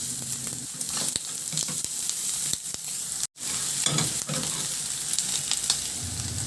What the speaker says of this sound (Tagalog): Itabi ko muna yan siya sa ating kawali at igisa ko na rin yung bawang.